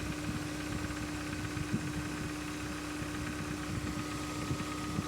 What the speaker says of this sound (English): Compressor's on.